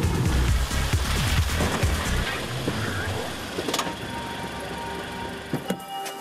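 Passenger car rolling slowly along a very bumpy rural road near Lytkarino, Moscow region, with rumbling suspension thumps, rattles and creaks under a low engine hum, while someone talks over it.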